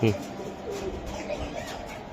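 A female racing pigeon gives a short cooing call close by, while people talk around it.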